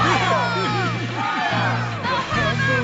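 Loud, continuous crowd cheering and whooping with many overlapping voices shouting, sustained throughout.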